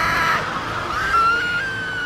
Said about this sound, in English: Follow the screams.